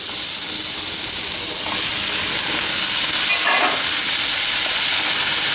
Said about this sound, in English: At this stage, I'm going to add the tomatoes.